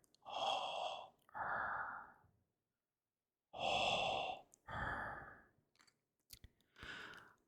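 A voice imitates Darth Vader's mechanical breathing: slow, heavy breaths in and out, loud and close, repeated in pairs with a pause between, then a few clicks and a shorter breath.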